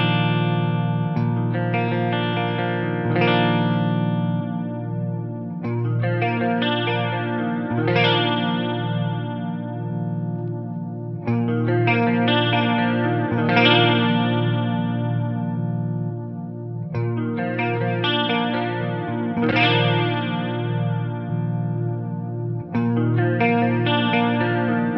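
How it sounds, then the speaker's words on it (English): Electric guitar played through a NUX Rivulet chorus pedal in series with a CE-1-style preamp: sustained strummed chords with a lush, warbling chorus sweep, repeating in four similar phrases at steady volume, with no talk. "about as close as I could get this little chorus to sound to the original CE1"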